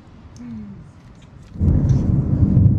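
Thunder during a spring thunderstorm in Bloomington, Minnesota: a quieter stretch gives way to a loud, deep rolling rumble that builds and sustains near the end, with no talking.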